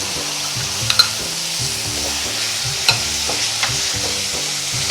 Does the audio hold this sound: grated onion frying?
yes